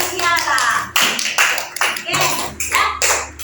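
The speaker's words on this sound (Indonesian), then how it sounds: "Tepuk tangan untuk hasil yang telah dikerjakan" A primary school class claps together in a series of quick, uneven bursts of applause, with voices mixed in among the clapping.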